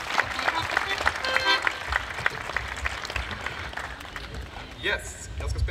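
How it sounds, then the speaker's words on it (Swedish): An audience claps for an accordion player at the opening of Torskolan school in Torsås, a lively burst of applause at moderate loudness, with a voice speaking over it. "Och därför får du en extra stor applåd."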